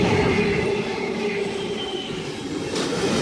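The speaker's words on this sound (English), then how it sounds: "H128 leading locomotive, followed by H203 and 8104. It's a cement train." A cement freight train led by locomotive H128 passes close by at Wondabyne, a steady rumbling roll of wagons with faint wheel squeal.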